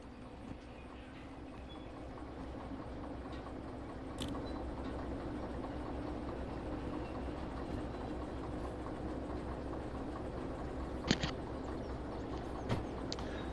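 A locomotive in the Derail Valley simulator game throttles up during shunting at a coal mine, giving a steady low engine drone with rhythmic wheel clatter and a few sharp metallic clanks, with no talking.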